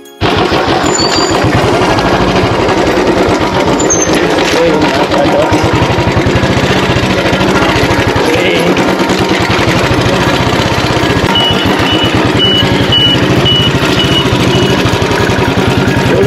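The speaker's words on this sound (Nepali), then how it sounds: "भुतेराको जङ्गलको बिचमा हामी बाइक कुदाइरहेको छौँ, drag race, this is call drag race." Motorcycle engine revving hard during a drag race through Bhutera jungle in Chitwan, Nepal, with a loud, steady, rattling drone and wind rush sustained throughout.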